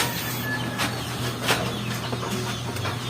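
A hen clucking near a poultry pen with newly hatched chicks, a few soft clucks over a steady low hum and background noise.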